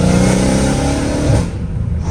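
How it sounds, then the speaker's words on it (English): Exhaust of a straight-piped Dodge Hellcat Redeye, heard from inside at night, a loud roaring rev that fades into crackling pops as the throttle drops, with no talking. "These pops are nasty right now."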